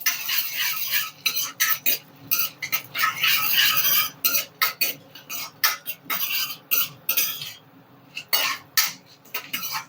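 A spoon scrapes and clatters against a pan while chana dal tempering is stirred, producing irregular bursts of metallic scraping with brief pauses in between and no talk.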